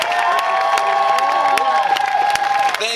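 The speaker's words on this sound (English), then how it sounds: "let's give him a warmer applause" Outdoor protest crowd at the School of the Americas applauds and cheers an Iraq war veteran, with steady clapping, whoops and shouting voices near and far, plus a loud sustained tone running underneath.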